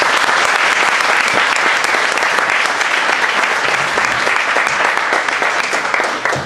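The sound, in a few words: audience applause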